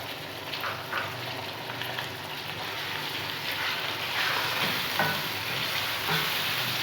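Chicken with garlic-ginger paste hits a pan of browned onions for chicken karahi, giving a steady, close sizzle and crackle of frying with occasional stirring, with no voices over it.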